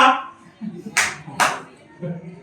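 Two sharp claps ring out amid a group chanting a rhyme together, with voices continuing before and after.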